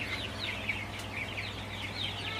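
A flock of 35-day-old Sonali chickens clucks and chirps steadily in a poultry shed on a hot afternoon, with a constant low hum from the cooling fans running underneath.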